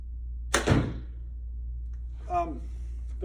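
An arrow tipped with a Valkyrie broadhead is shot from a Hoyt RX1 bow with an 82-pound pull and 30-inch draw into a target: one sharp, loud whack, then near silence with a faint brief sound later.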